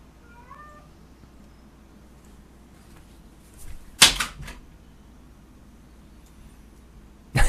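A cat gives a short, faint meow early on, followed seconds later by a loud, sharp clatter and a further thump at the end.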